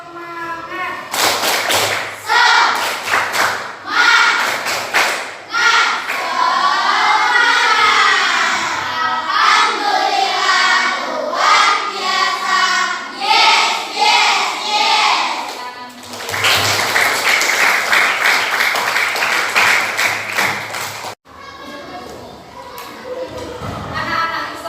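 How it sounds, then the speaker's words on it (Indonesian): A class of sixth-grade children performs a rhythmic spirit clap, bursts of quick patterned clapping alternating with chanted group voices, loud and close in a classroom, with a teacher speaking. "Tepuk semangat."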